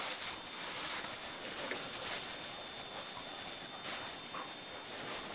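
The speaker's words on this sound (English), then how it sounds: "Puppies at play." Small dogs scamper and scuffle nearby with soft pattering feet and occasional faint yips, over a steady hiss of outdoor noise.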